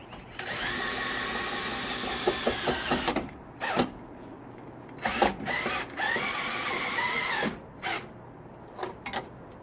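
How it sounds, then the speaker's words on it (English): A power drill in a pickup truck camper and topper swap runs at low speed in a long whirring burst, then in several shorter bursts and brief pulses separated by pauses. "We put the drill on low."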